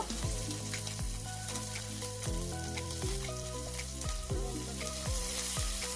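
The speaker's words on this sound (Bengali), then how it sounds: "মাছটা হালকা করে ভেজে নেব।" Small fish fry in hot oil with a bright, continuous sizzle and crackle, while tonal background music with steady beats plays over it and no one speaks.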